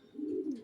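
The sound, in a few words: pair of Fotka pigeons cooing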